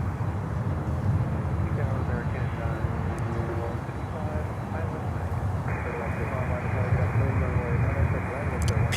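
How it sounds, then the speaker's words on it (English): Amerijet-operated Maersk Air Cargo Boeing 767 factory freighter passing near Miami airport, a broad steady jet roar holding loud and continuous throughout with no talk over it. "A Maersk Air Cargo 767 factory freighter operated by"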